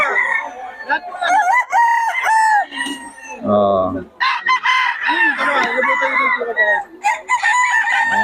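A nine-month-old stag rooster crows loudly and close, repeated crows mixed with clucking from other fowl, while someone talks intermittently over the birds.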